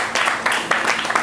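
Audience applause for a performer at a launch event: a short stretch of dense clapping that swells in several uneven bursts, fairly close and moderately loud.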